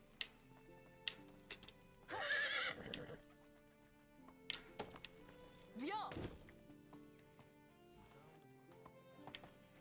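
A horse in the medieval game Medieval Dynasty gives two loud whinnies, with light clip-clop hoofbeats and small game clicks filling the gaps, alongside talk.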